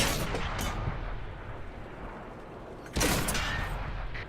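Tank cannon fire in World of Tanks: two sharp, heavy booms, one near the start and a louder blast about three seconds in, each followed by a rumbling decay.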